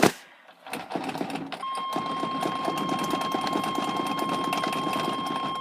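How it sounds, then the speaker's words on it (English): A car with true dual straight pipes cranking on a cold start after sitting all day, the starter whirring rapidly and steadily for several seconds, loud and close after a brief pause. "So cold start. Haven't started all day."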